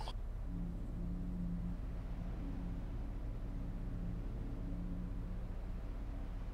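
A car engine in the video game DayZ Epoch: a low, steady rumble drones on with faint tonal hums rising and falling, a quiet motor sound with no talking.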